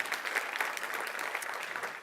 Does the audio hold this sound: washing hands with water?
no